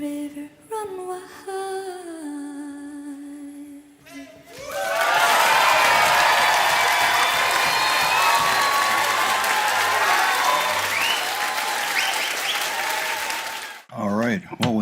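A large audience bursts into loud, sustained applause and cheering after a performance at COP26 in Glasgow, rising suddenly after a quiet sung passage and fading out near the end.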